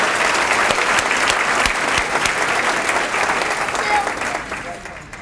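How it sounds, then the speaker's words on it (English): Sustained applause from an audience at a breakfast event fills the space, loud and dense, gradually thinning toward the end. "Let's give them one more round of applause."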